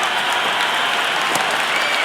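Cricket crowd at the Indian Premier League final between Royal Challengers Bengaluru and Gujarat Titans roaring and applauding a six, a dense continuous wash of clapping and cheering.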